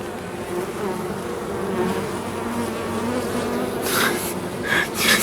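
Honeybees at an opened hive hum in a dense, continuous drone close by, with a few sharper, louder buzzes of individual bees passing near toward the end.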